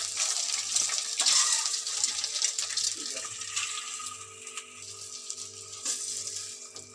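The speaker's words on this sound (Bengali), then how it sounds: "দেখো বন্ধুরা, ডিম ভাজা হচ্ছে।" An egg fries in a pan of oil on a gas stove, giving a steady, close sizzle with crackling pops that runs throughout and slowly fades a little toward the end.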